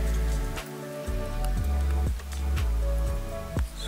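Rain falls in a steady patter, with a recurring rhythmic thudding and a sustained tonal hum running through it.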